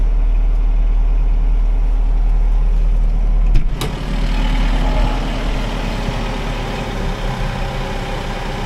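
Tractor pulling a hay baler through a field of wide windrows, a steady loud diesel drone with a constant low rumble and one brief clank partway through.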